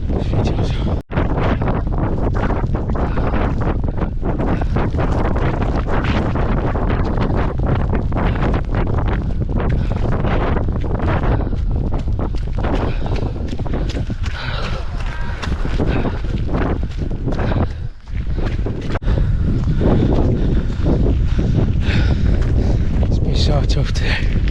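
Strong gusting wind buffeting a microphone during a fell race on exposed hill ground, a constant loud roaring rumble throughout with brief dips and faint talk beneath.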